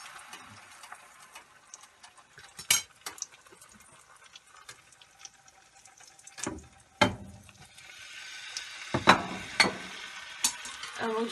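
French toast of custard-dipped, cream cheese and Oreo stuffed bread sizzles softly in a frying pan, a steady low crackle broken by a few louder spits and clinks, with no talking.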